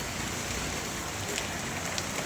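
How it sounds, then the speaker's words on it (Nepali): Heavy rain mixed with hail pours down on the streets of Thamel in Kathmandu, a dense, continuous hiss that stays fairly quiet and even from start to end. "काठमाडौँको ठमेलमा पानीको असिना पनि झरिरहेको छ है।"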